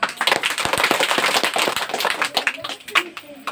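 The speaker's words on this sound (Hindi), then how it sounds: "ताली बजाइए" An audience at a prize distribution program for 12 Rabi ul Awwal at Jamia Wali Rahmani claps in a crisp, scattered burst of many hands, loud at first and thinning toward the end.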